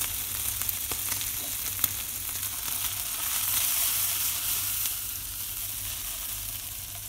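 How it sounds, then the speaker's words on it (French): Lardons sizzle in a frying pan with a steady crackling hiss that swells slightly midway, dotted with a few small pops and faint stirring clicks, no talking. "les lardons sont revenus"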